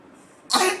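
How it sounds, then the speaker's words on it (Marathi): A child gives a single short, harsh cough, close and fairly loud, after a quiet moment. "किती खोकला येतोय."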